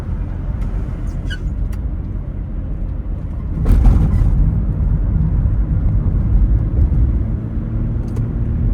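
A car drives along with a steady low engine and road rumble inside the cabin, briefly louder partway through, with faint clicks and small rattles now and then.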